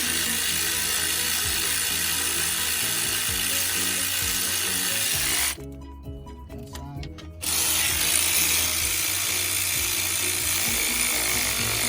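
A ratchet tightens rocker arm bolts on the 3.3L V6 of a 2008 Dodge Grand Caravan during a head gasket job: steady, close clicking and grinding that stops briefly midway, then resumes.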